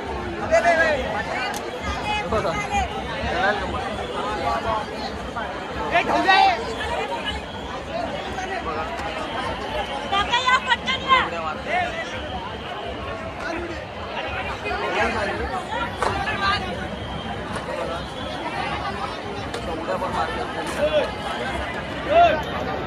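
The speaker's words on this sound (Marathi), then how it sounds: "गर्दी आहे बघा" Dense crowd chatter fills a Chinchpokli Cha Chintamani Ganesh arrival procession in 2024, a steady near babble of many voices with occasional louder shouts, running continuously without a break.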